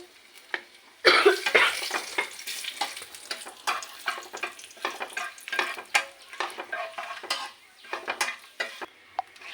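Bay leaves and whole spices sizzle in hot oil for a chicken roast, a loud crackling burst at the start settling into steady frying with repeated stirring scrapes and clinks of a utensil against the pan.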